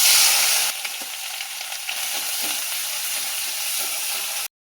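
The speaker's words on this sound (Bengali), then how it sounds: "এবারে মাছ ভাজা তেলের মধ্যে পেঁয়াজ বাটা দিয়ে দেবো।" Onion paste hits hot oil left over from frying fish, bursting into a loud sizzle that settles into a steady, crackling fry close by, then cuts off abruptly.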